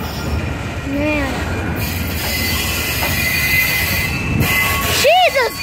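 A Union Pacific boxcar freight train rumbles past close by, with loud rolling wheel noise and sharp metallic squeals from the rails.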